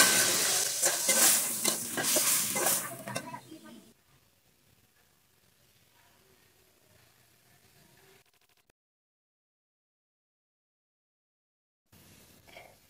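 Ginger garlic paste frying in a karahi for chicken karahi makes a loud, close sizzle with stirring scrapes for about four seconds, then fades to a faint low hiss and near silence, with a short return at the end.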